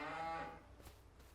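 A single loud, close moo from a beef cow on a farm where Black Angus, Highland and Limousin cattle are kept, the call falling off after about half a second, followed by quiet rustling.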